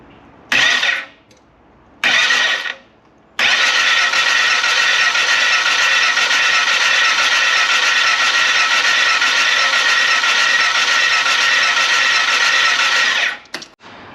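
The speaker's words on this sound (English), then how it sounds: "I'm going to crank this over and see what happens" A Polaris RZR 900 engine with a newly installed cam cranks over on the starter, first in two short bursts and then in one long, steady, loud whir lasting about ten seconds.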